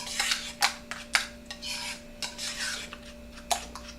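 A spoon rubbing and scraping through thick keto coleslaw dressing in a bowl, an irregular run of close scratchy strokes with a steady hum underneath.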